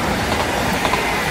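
A train passes on the tracks, producing a loud, continuous rumbling roar with faint clatter, heard close by.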